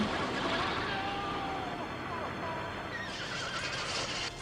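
A horse neighs in the fantasy film The Neverending Story, a faint, wavering whinny that rises and falls over several seconds beneath low talk, with a few soft hoof-like knocks toward the end.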